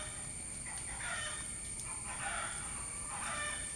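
A rooster crows somewhere outdoors just after heavy rain has stopped, repeated calls rising in short bursts, fairly distant and faint over a steady background hiss.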